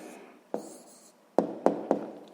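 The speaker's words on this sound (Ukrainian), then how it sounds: "Гаразд, записуємо тоді відповідь." Pen or pencil writing down an answer to a sixth-grade math exercise: a soft scratch followed by several short taps and strokes on paper, close and quiet, with no voices.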